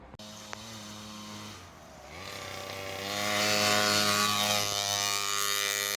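A small motorbike engine runs with a buzzy, close whine, then revs higher and holds a louder, raspier pitch; no voices.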